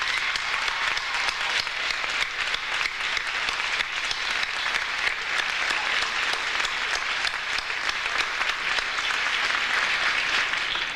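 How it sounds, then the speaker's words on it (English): A graduation audience at a Queensborough Community College commencement applauds in a sustained, even round of clapping from many hands that continues steadily throughout. "join me in a round of applause for our buildings and grounds departments who work so hard to make this campus so beautiful"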